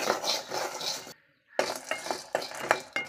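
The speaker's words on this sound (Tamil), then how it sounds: "லைட்டாக அந்த கடலைப்பருப்பு வறுத்துக்கலாம்" Chana dal lightly roasting in a pan while a spoon scrapes and stirs it, with soft sizzling and repeated clinks that stop briefly before the stirring resumes in quick strokes, for a carrot poriyal.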